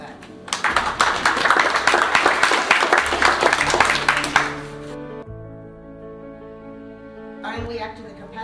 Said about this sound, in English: clap for that